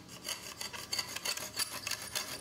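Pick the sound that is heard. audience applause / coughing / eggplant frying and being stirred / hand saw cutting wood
hand saw cutting wood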